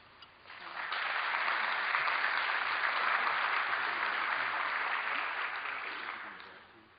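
Sustained audience applause at an awards ceremony, the Affiliate Summit West 2010 Pinnacle Awards, swelling within the first second, holding steady and loud for about five seconds, then tapering off near the end.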